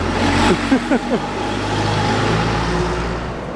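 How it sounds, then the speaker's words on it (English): A bus drives past on a road on Fukue Island in Nagasaki, its engine rumbling close by with a brief rise in the first second, then a steady fading hum. "Hey, there's one of the buses."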